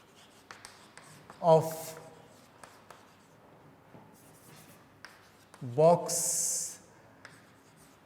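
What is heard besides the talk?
chalk or pen writing on a board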